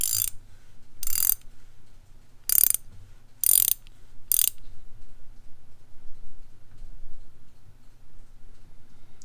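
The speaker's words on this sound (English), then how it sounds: "That's a real nice ratcheting right there." Pittsburgh Pro ratcheting wrench giving five short bursts of rapid ratchet clicking, close and fairly loud, spaced unevenly over the first few seconds, then near silence with faint low hum.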